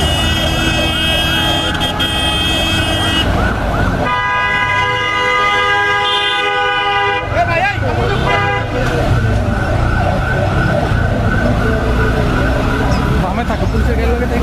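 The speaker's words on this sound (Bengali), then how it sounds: "আমার সামনে যে অ্যাম্বুলেন্সটি রয়েছে" Ambulance siren on a vehicle carrying a gunshot victim through Dhaka toward Hazrat Shahjalal International Airport, wailing loudly and continuously amid street traffic and horns, with crowd voices underneath.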